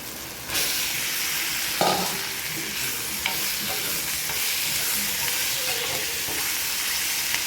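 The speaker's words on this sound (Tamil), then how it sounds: "வேக வச்ச வாழைக்காயை சேர்த்துக்கலாம்" Boiled plantain pieces tossed into a pan of cooked onions and stir-fried, giving a continuous close sizzle with scraping and clinks of a spatula stirring through, no talking.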